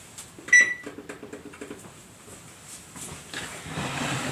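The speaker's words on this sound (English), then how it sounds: "And then I set my timer on the stove for 4 minutes" A kitchen stove timer gives a short, bright electronic beep near the start as it is set for tea, followed by faint clicks and soft kitchen handling noise, with no speech.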